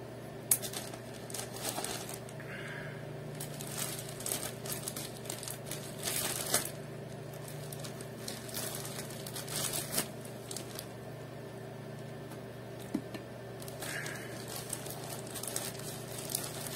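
A small package being opened with scissors indoors: continuous close crinkling, rustling and snipping of packaging over a steady background hum, with brief louder crackles, and no talk.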